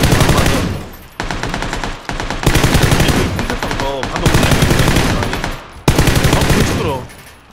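AK rifle fire in the video game PUBG rattles out in long, loud, rapid automatic bursts, several sustained strings of shots separated by short pauses, close and dominant.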